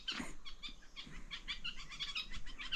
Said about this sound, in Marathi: बुलबुल पक्षीत